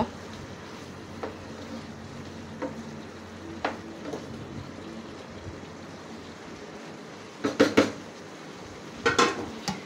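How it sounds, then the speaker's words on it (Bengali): Vegetable stalks being sautéed and stirred in a pan for a home-cooked dish with rohu fish; a soft, steady cooking hiss runs under occasional scrapes and clinks of a utensil, with a louder cluster of clatter near the end. "এই যে ডাটাটা আমি কষিয়ে নিতেছি, ভালোভাবে কষিয়ে নিই"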